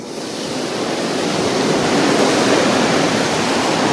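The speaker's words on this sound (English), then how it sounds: "I actually have to hold my mouth down over the microphone just so you can hear me talking because the wind is so strong." Strong storm wind roaring and buffeting over a microphone outdoors, a loud, steady broadband rush with low rumbling gusts that builds slightly and stays continuous, with no other sounds breaking through.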